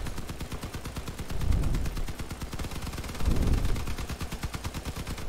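Rapid automatic gunfire from vehicle combat in the game CrossOut rattles in fast, even bursts, swelling twice into heavier, louder volleys over a constant mechanical rumble.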